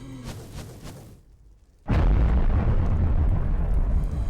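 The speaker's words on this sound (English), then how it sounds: "Why is that explosion so loud?" Explosion in Minecraft: after a quieter stretch of game sound, a sudden loud blast erupts and rumbles on as a dense, sustained roar that fills the rest of the clip.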